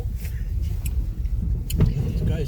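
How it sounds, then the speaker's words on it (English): A car drives past on a rough, potholed stretch of McKenzie Street in Thunder Bay, its engine and tire rumble swelling as it nears and rolls by, with a brief thump midway. "Oh, here comes a car."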